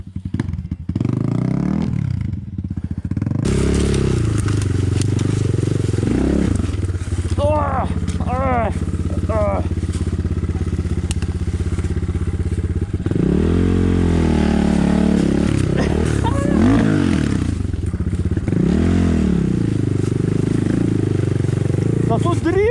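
An enduro motorcycle engine runs throughout, revving and rising in pitch as it rides, with people talking over the steady engine drone.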